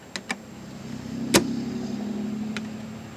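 The plastic latch on an Ausranvik 26-quart portable refrigerator's hard plastic lid gives two quick clicks, then one sharper snap as it shuts, with a faint low hum underneath and no talking.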